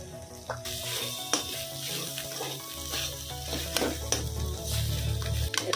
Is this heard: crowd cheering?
no